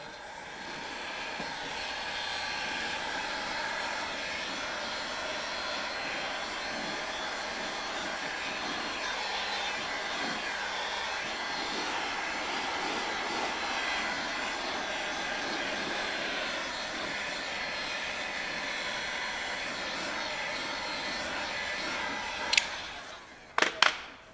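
A heat gun blows a steady, even airflow hiss over headlight tint film for about twenty seconds, loud and close, ending with a few sharp clicks and knocks.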